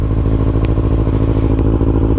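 A motorcycle is ridden, heard as a loud, close, steady engine rumble mixed with wind buffeting, continuous throughout with no talking.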